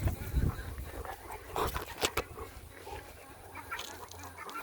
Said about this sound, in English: when you hear him growling like that, he's just letting this guy know that he's the boss